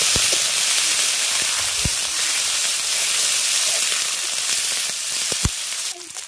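Spice paste of onion, ginger paste, mustard paste and turmeric frying in a pan, a steady loud sizzle and hiss throughout with occasional sharp pops and crackles.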